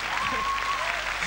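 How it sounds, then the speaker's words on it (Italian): Audience applause at an Italian comedy show, a dense steady wash of clapping throughout with a faint sustained tone running through it. "Facciamo un applauso."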